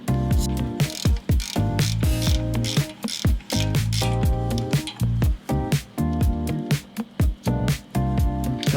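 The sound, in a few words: ratchet with 18mm socket loosening brake caliper bolt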